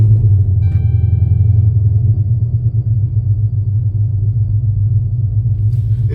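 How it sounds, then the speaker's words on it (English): A car engine idles steadily, close and loud, with a deep constant rumble and no change in pace throughout. "Let's let the engine do some talking"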